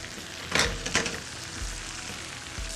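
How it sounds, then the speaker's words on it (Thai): Shrimp frying in hot oil until crispy, a soft continuous sizzle with two brief louder bursts of crackle near the start, fairly quiet and close. "กุ้งก็ทอดให้กรอบครับ"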